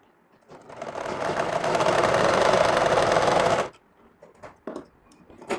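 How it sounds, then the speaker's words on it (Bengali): A sewing machine stitches salwar fabric in one loud, steady, close run of about three seconds, then stops, followed by a few short handling rustles and clicks. "এই যেখানে একটা বসাবেন কলি তারপরে সেলাই দেওয়া লাগবে"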